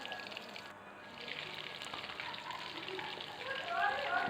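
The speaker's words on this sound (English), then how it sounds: "Look at it, it's frying." Mince seekh kebabs fry in hot oil in a pan on a lowered flame, giving a steady close crackle and sizzle that builds slightly toward the end.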